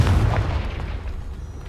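A Confringo spell blast in Hogwarts Legacy, one loud booming burst that hits at once and then rolls off into a fading low rumble.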